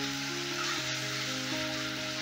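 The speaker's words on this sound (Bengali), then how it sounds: "এবার আদাটা একটু ভাজা ভাজা করে নেব, যতক্ষণ আদার কাঁচা গন্ধটা না যাচ্ছে।" Ground ginger, garlic and green chili paste frying in a pan, giving a loud, continuous close-up sizzle with a faint tonal hum beneath.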